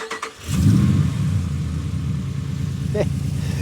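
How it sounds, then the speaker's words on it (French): A Dodge Ram 1500 pickup with a 5.7-litre V8 cranks briefly, then fires and settles into a deep, rumbling idle that stays loud and close. "Avec la clé, vous pouvez démarrer le moteur en appuyant 2 fois."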